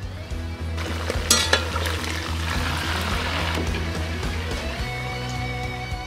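Pork ribs fry in a kazan, giving a continuous sizzle and crackle of hot fat, close and fairly steady, with a few sharper pops and bursts early on and a low background hum.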